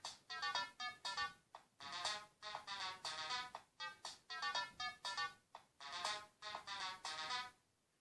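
A Korg DSN-12 synthesizer plays a four-pattern song: a bright, beepy sequence of rapid synth notes in a steady rhythmic loop, clear and upfront, ending abruptly.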